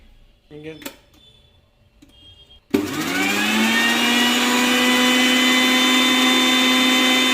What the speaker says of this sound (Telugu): మూత పెట్టేసుకొని మిక్సీ పట్టుకోవాలా.